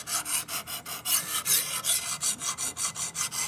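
A Shun kitchen knife is sharpened with steady, evenly spaced rasping strokes, about a dozen back-and-forth passes, close and clear with no voices.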